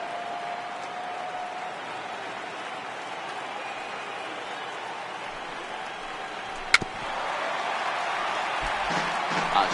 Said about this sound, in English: A sold-out crowd,